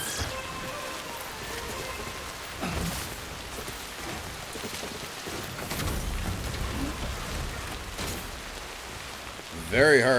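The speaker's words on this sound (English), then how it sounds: "Very hard rain again." Heavy rain in Death Stranding pours steadily across mountainous foothills, a dense continuous hiss with occasional swells and low rumbles, ending in a brief louder burst.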